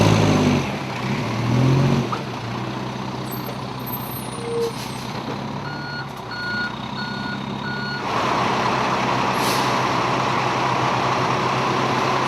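Fire engine backing out of a bay with its reverse alarm beeping in a steady repeated pattern over a loud, continuous diesel idle, with air brake hiss and a rise in engine noise toward the end.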